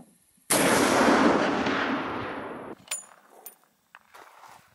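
A single rifle shot from a Sabot slug round, 2 3/4 inch, rings out sharply and loudly, its boom decaying over about two seconds before quiet handling noises follow.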